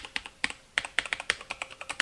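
Keystrokes on a Patriot Viper V760 mechanical keyboard fitted with brown switches, about a dozen distinct, crisp but not loud clacks in an uneven rhythm, close and with no voices.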